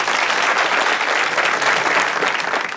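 A studio audience on a Turkish talk show claps and cheers in steady, loud applause that fills the whole stretch without letup.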